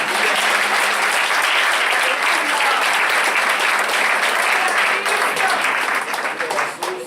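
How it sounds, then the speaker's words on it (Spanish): A church congregation breaks into loud, sustained applause at a Sunday-morning service, a dense wall of clapping that stays steady throughout and thins slightly near the end. "Vamos a darle un fuerte aplauso al Señor."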